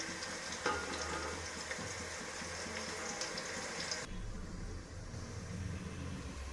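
A pan of biryani ingredients frying on a low flame until browned gives off a soft, continuous sizzle and hiss at moderate distance, steady throughout with a slight shift in tone partway, and no talk.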